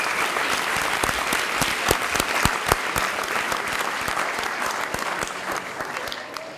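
An audience at a 2013 graduate hooding ceremony applauds graduates of an educational psychology department, a dense, sustained wash of many hands clapping at close range that fades slightly at the end.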